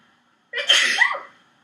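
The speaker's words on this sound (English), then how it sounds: "I have to sneeze" A single close sneeze bursts out after a moment of quiet, sharp at the start and trailing off quickly.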